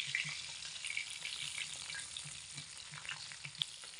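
Tilapia fish fries in hot oil with a steady, fine crackling sizzle, soft and close, broken by a few light spatters and pops and one sharper snap near the end, with no voices.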